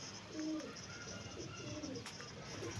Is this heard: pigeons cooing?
yes